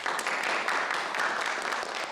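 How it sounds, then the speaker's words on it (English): Audience applause, a steady dense wash of many hands clapping at an even level throughout, with no voices breaking through. "There'll be more applause."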